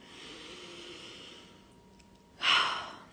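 A single deep breath drawn in after a quiet pause, a soft airy hiss that swells suddenly and fills the close space, heard alone without talk.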